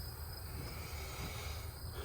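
A constant wash of cricket chirping after a storm, dense and unbroken, heard alone at a moderate distance.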